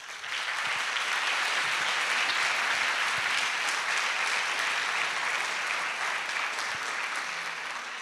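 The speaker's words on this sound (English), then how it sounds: "As you can hear from the applause, it was wonderful" A conference audience applauds after a talk on UX teams, a dense steady wash of many hands clapping that holds at full strength for the whole stretch, with no voices over it.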